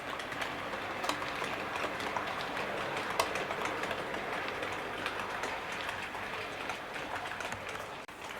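A Hornby T9 Greyhound model locomotive runs on track with slightly out-of-gauge wheels, giving a steady quiet mechanical whirr and rumble with faint clicks, unbroken and without talk.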